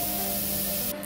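A short, close, loud burst of spray paint hisses over bucket seats for a model 1962 Chevy Impala, painting them red, then cuts off abruptly.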